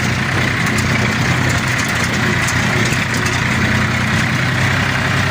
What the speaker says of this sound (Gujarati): અમારા વિરાજભાઈ પરમાર સ્ટેરિંગ જો કેમ પણ તેમ જાય ટ્રેક્ટર બીજા ગેરમાં પકડાટી કરે